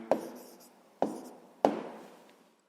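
Three separate pen or pencil strokes while writing down the answer to a sixth-grade maths problem, each a short scratchy burst fading out, spaced about a second apart in a quiet room.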